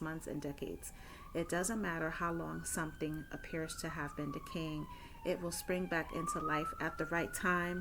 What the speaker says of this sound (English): Excuse the sirens. I am in New York City.